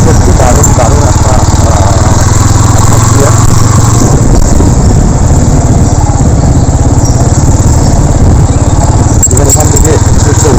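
A Yamaha R15 V3 motorcycle is ridden near Debagram forest, its engine droning loud and steady at close range throughout. A voice talks over the engine noise in the first few seconds.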